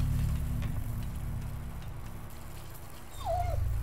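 Dog whimpering in the horror game Haunting Ground: a single high, wavering whine rises and falls near the end over a low rumbling game background.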